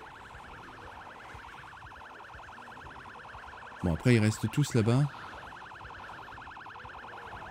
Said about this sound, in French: Faudrait que j'avance et couper la sirène maintenant